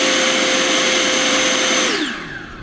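A 105mm electric ducted fan on a 12s-powered RC foam jet runs with a loud, steady high whine close by, then winds down with a falling pitch as the throttle is cut.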